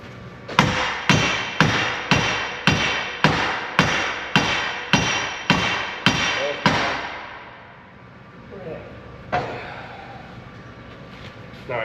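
Eleven loud, evenly spaced hammer blows ring out close by as a pin is mushroomed in, followed by a pause and a few lighter knocks.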